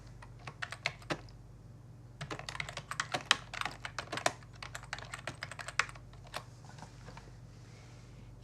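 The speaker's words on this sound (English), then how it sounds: "Type some words and click Share." Keys clatter on a computer keyboard in quick, uneven bursts of close, crisp strokes, with short pauses between runs of typing.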